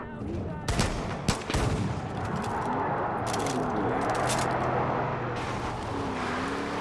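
Several sharp video-game gunshots in Far Cry 5 crack in quick bursts near the start and middle, over a steady engine hum and faint talking.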